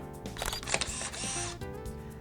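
Faint mechanical camera shutter clicks, quick and close, against a quiet background.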